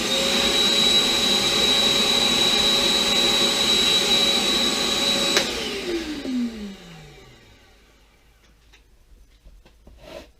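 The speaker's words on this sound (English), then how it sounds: "I'm going to vacuum this little pile up" A vacuum cleaner sucking up a small pile of pet hair runs steadily with a high whine, then is switched off and its motor winds down into near silence.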